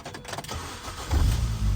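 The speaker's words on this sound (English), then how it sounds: "Now we can start the car." A Mini Cooper with a faulty ignition switch cranks and its engine catches after brief mechanical clicks, then settles into a loud, steady close-up idle.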